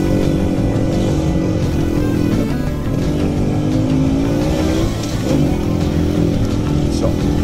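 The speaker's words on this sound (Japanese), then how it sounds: "車来た。" A car climbs past on the steep, narrow Kuragari Pass mountain road in Japan, its engine a loud, rising and falling rumble close by, heard over a motorcycle's running engine and wind noise.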